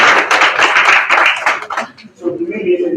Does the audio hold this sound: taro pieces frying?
no